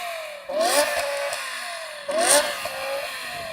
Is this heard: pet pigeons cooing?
no